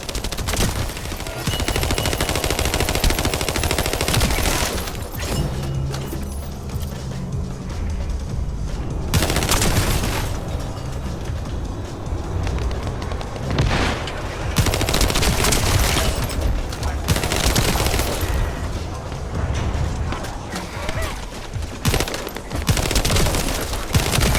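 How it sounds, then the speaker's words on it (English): Sustained turret gunfire in the video game The First Descendant, loud rapid automatic bursts with heavy booming impacts that come in waves and briefly drop off between volleys. "I'll operate turrets to keep the surrounding area secure"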